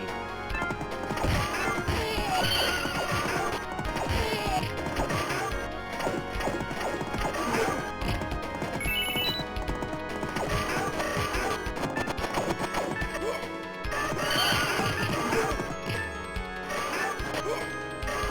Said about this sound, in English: I got me a trusty steed.